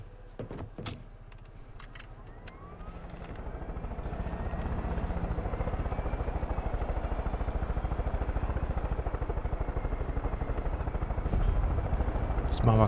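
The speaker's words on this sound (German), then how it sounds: "Ach, mit dem Heli sind wir schneller." A helicopter in the video game Far Cry 5 spins up after a few clicks and thuds, its rotor building into a loud, steady, close chop that continues to the end, while someone speaks in German over it.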